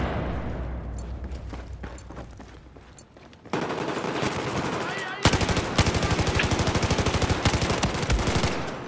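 Rapid automatic machine gun bursts in the video game Battlefield 4, loud and close, with a rattling rhythm that picks up sharply partway through and keeps firing densely to the end.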